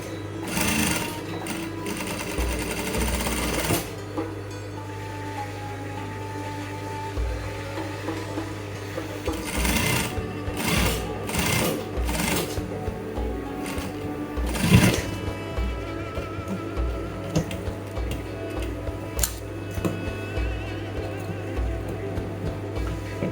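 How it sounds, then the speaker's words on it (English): Sewing machine running steadily while stitching straight down the front pocket of a pair of trousers, a close continuous whirring hum with brief pauses and restarts, no talking over it. "You sew straight down."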